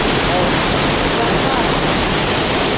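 Loud, unbroken rush of a waterfall at Barangay Dadatan, Dolores, Quezon, a dense steady roar of falling water heard close up, with voices faintly present.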